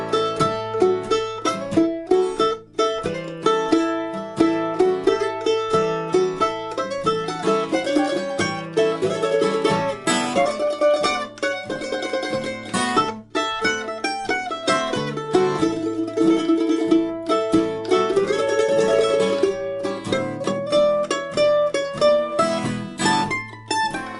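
A mandolin plays a bright, busy 12-bar blues alone, with quick picked notes and chords in a steady, bouncing rhythm.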